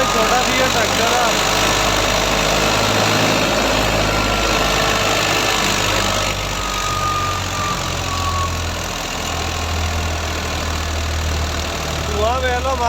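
A New Holland 480 tractor engine runs at a steady idle while harvesting wet wheat, a close, continuous low rumble with a person talking over it.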